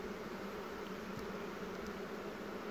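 Faint, steady buzzing of honeybees at an open beehive with a sparse colony, a low continuous drone without talk.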